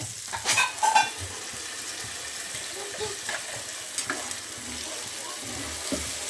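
Ground masala fries with onion and tomato in a pan for green chilli chicken chops: a few clattering stirs near the start, then a quiet, steady sizzle with occasional scrapes.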